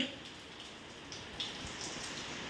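Steady rain falls at Mahabaleshwar in a soft, even hiss of drops on nearby surfaces, with a few louder patters, continuing throughout without voices.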